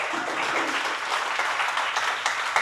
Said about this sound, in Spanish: Un aplauso para Eric.